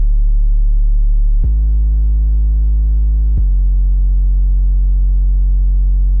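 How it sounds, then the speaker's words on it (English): A distorted 808 bass sample from a trap beat plays alone, with three long sustained booming notes, each starting with a quick pitch drop and carrying a buzzing harmonic edge. "For the 808, I'm using this spins sample with a little bit of distortion."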